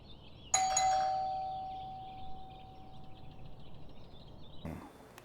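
A second-generation Google Nest Doorbell rings with one clear chime tone that decays slowly over a couple of seconds, followed by a brief softer burst of noise near the end in a quiet room.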